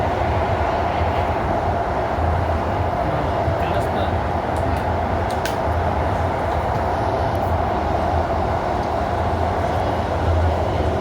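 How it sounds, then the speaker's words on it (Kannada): A Pune metro train runs with a steady, loud rumble and continuous wheel and carriage noise throughout, heard from inside, with faint voices in the background. "ಈಗ ಇದು ಪುಣಾದೊಳಗೆ ಫಸ್ಟ್ ಟೈಮ್ ಮೆಟ್ರೋದಾಗ ಜರ್ನಿ ಮಾಡಿದೆವು ನಾವು ರೀ"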